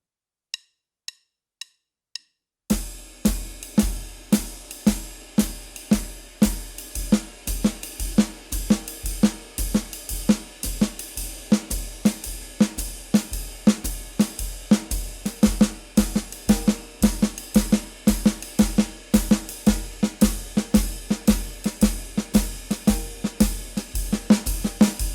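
Four stick clicks count off, then a drum kit plays brisk, steady jazz time with punchy snare accents scattered through the groove.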